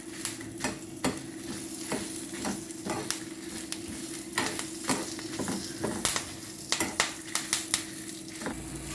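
Curry leaves and chillies sizzling and roasting in a hot pan for sambar, with a steady frying hiss broken by repeated sharp stirring scrapes of a spoon against the pan, close and with no talking.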